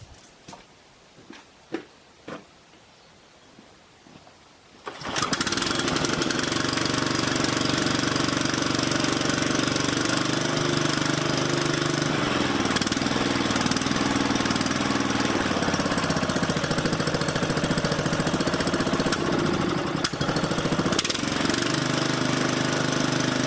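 A gas-powered lawn mower engine, refueled after sitting over winter, catches after a few faint knocks and pulls, then runs loud and steady at a rough, even idle for the rest of the time.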